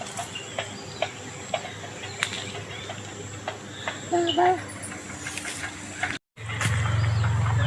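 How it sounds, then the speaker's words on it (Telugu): Several kinds of birds calling in a rural mango orchard, with intermittent chirps, a cooing call and clucking scattered through the outdoor ambience, followed by a low steady hum near the end. "ఎన్ని రకాల పక్షులు ఉన్నాయో అన్ని రకాలు కలిపి అరుస్తున్నాయి కదా"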